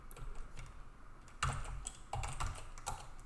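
Typing a Vim command on a computer keyboard, a quick run of close, crisp key clicks in small uneven clusters, fairly quiet and without speech.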